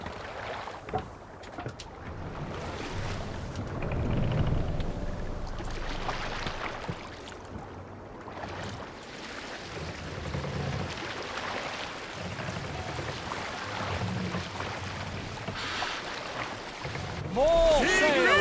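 A Viking longship sails across open water in Assassin's Creed Valhalla, with a steady wash of waves and wind rushing throughout, swelling in places, while voices speak over it.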